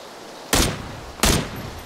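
Two sharp, loud single gunshots in the battle royale game PUBG, about three quarters of a second apart, each with a short decaying tail, and a third shot just beginning at the very end.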